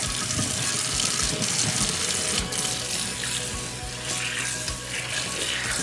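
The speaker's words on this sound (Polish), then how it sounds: "tylko przepłuczę patelnię, zobaczycie jak to wygląda" Warm tap water streams steadily into a Scanpan frying pan as it is rinsed in a sink, a continuous loud splashing hiss with small shifts as the pan moves under the flow.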